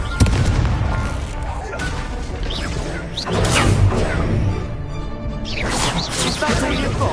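Incendio fire spell cast repeatedly in a Harry Potter video game, whooshing bursts of flame and booming impacts over a continuous loud combat bed, with spell-casting shouts mixed in.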